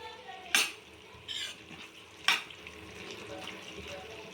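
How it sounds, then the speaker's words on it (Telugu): Goat tripe curry with tomatoes bubbling and simmering in a pot, a soft steady cooking sound broken by a few sharp clinks of a utensil against the pot, with no talk. "చూడండి మనం టమాటాలు వేసినాం కదా, ఇగో టమాటాలు చక్కగా బోటి మంచిగా ఉడుకుతుంది"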